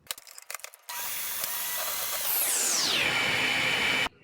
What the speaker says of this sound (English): You're gonna go ahead and put this in your mixer and you're gonna mix it until the butter gets white and wet.